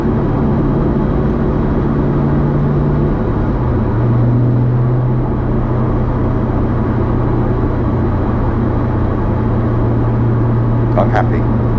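An Ultima RS sports car with freshly set-up suspension drones steadily from inside the cabin while driving, a loud low engine note shifting pitch as gears change.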